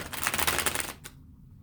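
Tarot cards shuffled in quick rustling, riffling bursts for about a second, close and fairly quiet, then a short final flutter before near silence.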